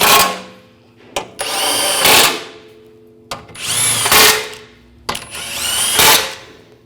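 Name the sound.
power tool tightening bolts on BMW 535i CV axle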